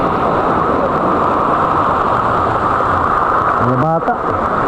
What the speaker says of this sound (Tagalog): Ulan na naman ng Kiamba.